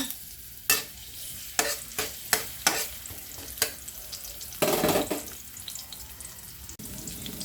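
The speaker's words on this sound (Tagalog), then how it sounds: "maglagay ng kunting mantika. Magisa ng bawang." Garlic sautéing in a little oil for chicken biryani, a soft sizzle under repeated sharp scrapes of a spatula stirring the pan, followed by a brief louder burst of frying.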